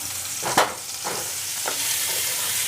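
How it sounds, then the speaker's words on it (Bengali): Potato pieces rubbed with salt and turmeric fry in hot white oil with a dense, steady sizzle. A few soft clinks and stirs sound over the hiss. "একটু লাল লাল করে আমি আলুটা ভেজে নেব।"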